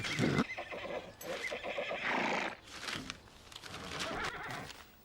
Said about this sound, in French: Les chevaux rentrent sur le champ de course dans 5 minutes.